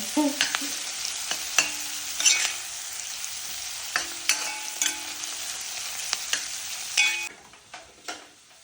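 Ingredients for a Brahmin-style red chilli fish curry sizzle in a pan, a steady close fry punctuated by sharp clinks and scrapes of a spoon, fading quieter near the end, without any voices.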